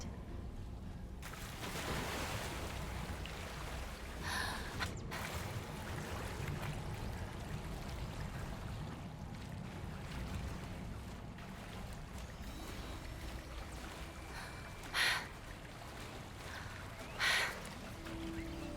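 Water bubbles and rushes steadily in Hogwarts Legacy, a continuous wash of fluid noise that holds throughout, with two brief sharper splashes near the end and no talk.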